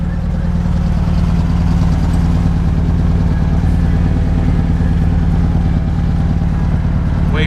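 A 1969 Volkswagen Karmann Ghia custom's air-cooled engine drones loudly and steadily from up close, a continuous low rumble with no clear gear changes.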